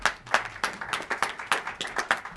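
A small group applauds staff members at a press conference on a homeowner bill of rights, with distinct, fairly close claps in an uneven rhythm of roughly two to three per second, no voices heard.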